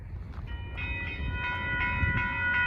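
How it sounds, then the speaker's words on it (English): Union Pacific grain train approaching a railroad crossing near Willcox, Arizona, its multi-tone horn sounding several sustained blasts over a steady low rumble of the moving train. "we have a train literally coming right now"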